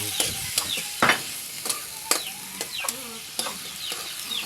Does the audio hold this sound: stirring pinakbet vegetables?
yes